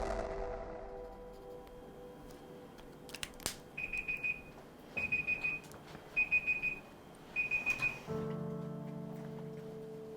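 An artist's painting timer goes off in four short, regular bursts of high electronic beeping. Before and after, a steady low hum fills an otherwise quiet room.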